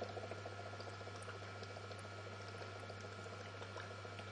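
Gas bubbles up through the electrolyte in a stainless steel spiral HHO electrolysis cell, a soft continuous fizzing and gurgling over a steady low hum, faint and without voices.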